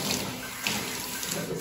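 Water runs steadily from a tap into a bath while a cat's beard gets washed, a continuous close splashing hiss with no speech over it.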